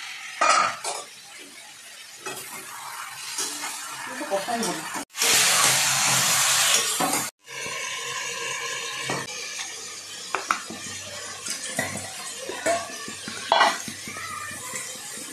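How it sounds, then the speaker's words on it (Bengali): Chicken frying in a pan for a Bengali home-cooked meal, a steady sizzle with scraping and clinks of a spatula against the pan, a brief loud hissing burst in the middle, with a voice heard faintly at times. "এখানে ভাজা হচ্ছে চিকেন।"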